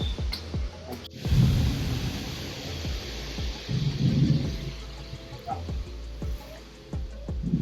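Light rain falls outdoors beside a roadside car, with scattered drops tapping irregularly over low rumbling swells and a faint voice at times.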